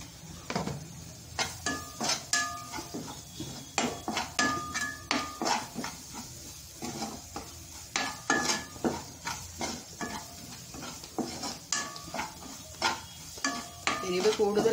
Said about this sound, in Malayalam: ഇവ ചേർത്ത് ഇളക്കാം